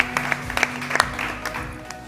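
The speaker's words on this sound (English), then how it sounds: "Big applause." Applause from a startup summit stage audience, a moderate, even patter of many hands with sharper individual claps standing out, over a low steady hum.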